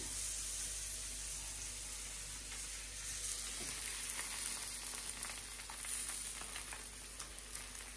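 Paratha and eggs frying for breakfast, a steady faint hiss of hot oil with light crackles throughout, alone with no speech.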